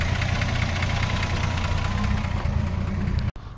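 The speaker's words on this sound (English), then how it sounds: "these little six cylinders are torquey little engines, and you know, sounds good." A 1964 Ford F100 truck's six-cylinder engine idling close by with a deep, even rumble and slight knocking rhythm, cutting out for an instant near the end.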